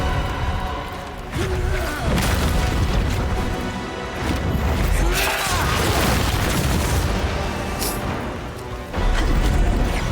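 Heavy crashing booms and smashing impacts of rocks in a video game boss fight against Ozma in The First Berserker: Khazan, dense and continuous, with a sharp loud burst near the end.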